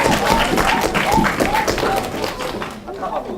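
An audience at a 2017 youth unification debate contest, middle-school final, claps in a dense burst of applause that fades toward the end, with a voice speaking over it.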